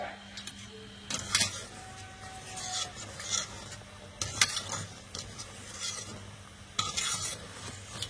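Low, steady sizzle of ripe palm pakan pitha cakes frying in oil, broken by sharp scraping and clinking of a utensil stirring in the pan.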